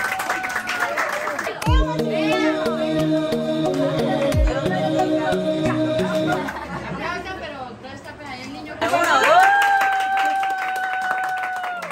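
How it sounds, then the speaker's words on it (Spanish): A family breaks into applause at a home gift celebration for a father, scattered hand claps under lively overlapping chatter, laughter and a singing voice. "Bueno, aplauso a todo el mundo ya."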